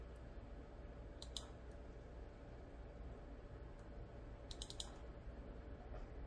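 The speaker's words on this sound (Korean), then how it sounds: "클릭." Two short, faint computer mouse clicks, each a quick double tap, separated by a few seconds over a quiet background hum.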